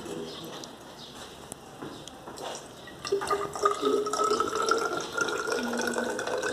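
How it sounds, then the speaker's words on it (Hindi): Water poured from a beaker into a measuring cylinder in a lab demonstration, starting as faint trickles and drips, then becoming a louder, rising gurgling pour, with a voice speaking now and then. "हमें मेजरिंग सिलेंडर में 50 ml तक वाटर को फिल करेंगे"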